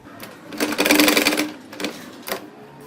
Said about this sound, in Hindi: उसी शेप पर मैं रखकर इसको सिलाई करती जाऊंगी।